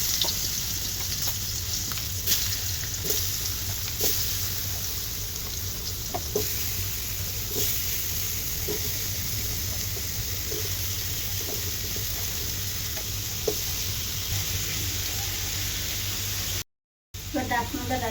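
Ash gourd pieces fry in hot oil in a wok, giving a steady, broadband sizzle that runs throughout, with faint clinks of stirring, a brief gap near the end, and no talk.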